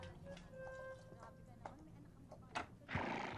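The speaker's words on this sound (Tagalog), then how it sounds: "Kabayo! Kabayo ba daw?" A horse neighs in a film scene, a bright, wavering whinny near the start followed by snorts and rustling commotion, with human voices around it.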